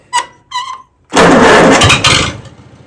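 A John Deere tractor engine cranks over and catches, the broad roar of the running engine loud and close for about two seconds before easing off. Two short electronic beeps come before it.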